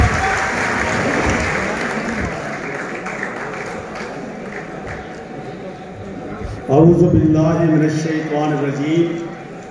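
Applause from the audience at an all-Pakistan mushaira poetry gathering at Islamia University Bahawalpur fills the hall steadily, then gives way to someone speaking close to the microphone as the clapping continues beneath his voice.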